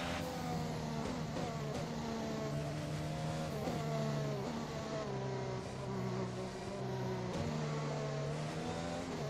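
A Formula 1 race car in the F1 2021 video game roars at a steady high pitch that climbs and drops through gear changes, loud and continuous, with no speech.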